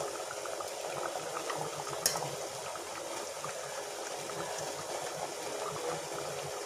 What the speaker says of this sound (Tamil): இப்போ குழம்பு நல்லா கொதிச்சு வந்துடுச்சுங்க.